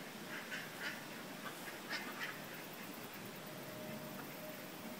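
Ducks quack faintly and repeatedly at a distance outdoors while a storm approaches, a few soft calls standing out against steady wind and background noise.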